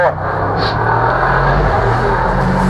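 An Audi race car at the 2019 Oberlausitzer Dreiecksrennen road race runs at high speed, its loud, steady engine roar filling the clip beneath a commentator's continuous talk.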